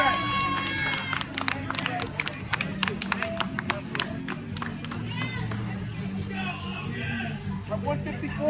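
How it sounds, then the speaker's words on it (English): A crowd at a wrestling tournament claps and cheers in scattered, uneven bursts, with sharp individual hand claps standing out over a murmur of voices and chatter in a large room. "Give a round of applause for Ray for doing what he does best."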